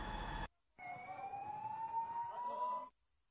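Fire engine siren at a burning shop, a single rising wail after a brief cut, fairly distant and steady, with no talk over it.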